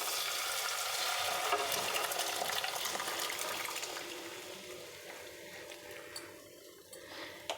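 Boiled masoor dal with mixed vegetables, Bengali style, added to a pan over low gas and left to simmer, giving a soft, steady bubbling and sizzling hiss that fades gradually toward the end.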